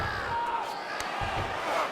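Arena crowd cheering during a UFC 5 bantamweight championship simulation (UFC 311, Merab Dvalishvili vs Umar Nurmagomedov): a steady, dense roar with a few swells, filling the whole stretch.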